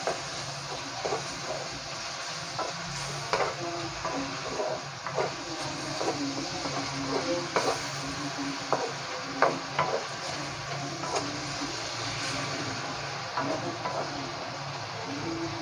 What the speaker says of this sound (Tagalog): Haluin ulit.